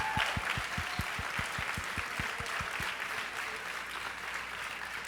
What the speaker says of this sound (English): Please raise up an applause to Arezzo&Co team